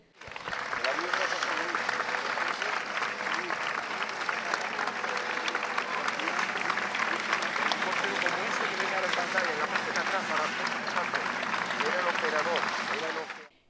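A crowd gathered in a town square in Algeciras applauds as a Customs Surveillance helicopter flies over, a steady, dense wash of clapping that goes on for more than ten seconds before stopping abruptly.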